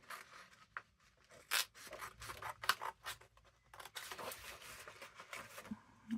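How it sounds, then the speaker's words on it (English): Scissors cutting a middle section out of a vintage book page: soft, close, intermittent snips and paper rustles at low volume, with no voice. "Let's cut this middle bit out."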